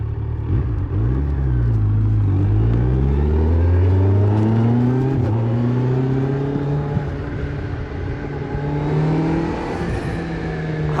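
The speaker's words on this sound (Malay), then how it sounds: "Lajunya kereta ni." A Kawasaki Z900 motorcycle engine, heard from the rider's position, revs and accelerates with harmonic tones sweeping up and down, loud, close and steady throughout.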